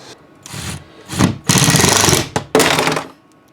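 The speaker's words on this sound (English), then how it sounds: "I'm gonna actually go ahead and pre-drill them." A power drill pre-drills screw holes in wood, loud whirring bursts of about a second each, starting and stopping several times at close range with no talk.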